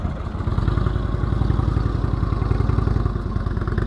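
Low, steady idle of a motorcycle engine with an uneven, lumpy glug, close and continuous with no talk over it.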